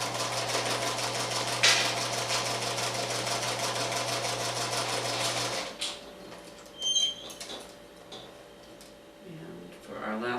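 A sewing machine stitches a pineapple quilt block, running as a steady dense hum for about five and a half seconds before stopping, followed by quieter handling of fabric and the presser foot.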